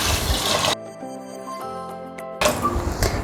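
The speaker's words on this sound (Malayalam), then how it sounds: "ഇനി കറക്റ്റ് 4 കപ്പ് വെള്ളം" Water is poured into a pressure cooker holding rice and urad dal in a kitchen, a broad rushing splash before and after a brief quieter pause with a faint tonal hum.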